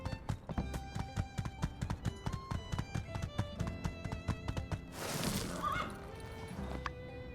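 Horse hooves clip-clopping in the farming game My Time at Sandrock, a steady rhythmic trot of close, crisp taps against game music, with a brief burst of noise near the end.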